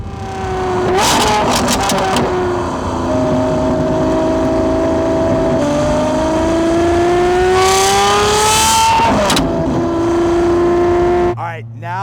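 Straight-piped V12 Lamborghini SVJ revved hard, loud rising and falling engine howls with sharp blips and sustained high-rpm wails, close and overpowering throughout.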